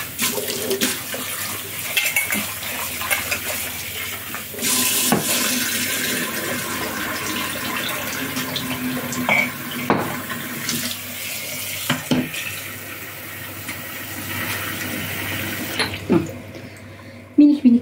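Tap water runs steadily into a pot for lentil soup in a home kitchen, a continuous wash of water with a few clinks of cookware, while someone talks over it.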